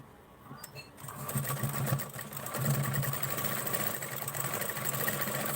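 A sewing machine stitches a double seam on a blouse, starting up after about a second and then running in a steady, close mechanical whir.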